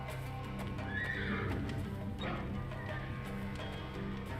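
Nervous horses neigh and whinny in a stable scene from the adventure game Secret Files 3, with a long rising whinny near the middle, snorts and light hoof clops over a steady low ambient hum.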